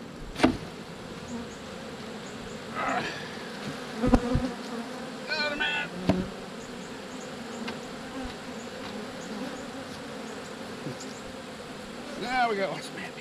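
Honey bees buzz around an opened hive with a screen bottom board: a faint, constant hum of many insects, with individual bees passing close by in louder, brief swells, and occasional quiet talk underneath.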